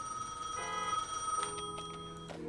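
A telephone rings inside a video game, a steady repeating electronic ring with bright tones that carries clearly over a low game soundtrack for a couple of seconds.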